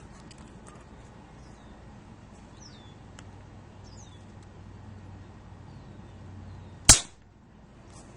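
A single sharp crack from a Crosman Pumpmaster 760 pump air rifle, loud and close, stands out after a quiet stretch with faint background birds.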